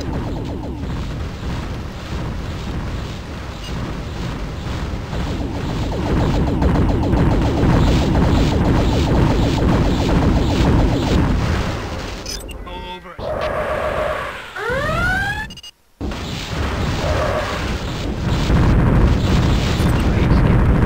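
Ships blow up in the space game EV Nova, dense loud booming blasts and crashes layered with game sounds, later cut by brief gaps and sweeping tones, with a voice talking over parts of it.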